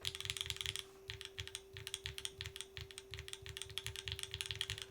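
Rapid clacky typing on a Neson Design × Zephyr Lab Z1 mechanical keyboard, key strikes with a faint metallic ping, steady rhythm close up, with a low constant hum behind.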